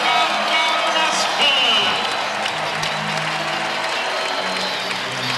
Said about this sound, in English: Well, the crowd got up, started getting loud, trying to help their team get something happening